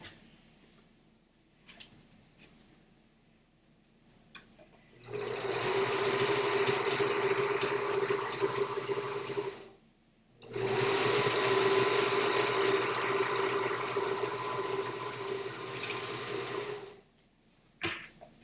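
A sewing machine sews the side seams of a fabric bag in two long steady bursts, a loud mechanical whir with a brief pause between, no talking.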